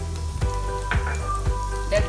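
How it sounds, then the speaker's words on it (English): Onion, ginger, garlic and spices frying in oil, a continuous close sizzle punctuated by a few sharp clinks and scrapes of stirring roughly every half second. "While this is frying, I am adding 4 slit green chilies."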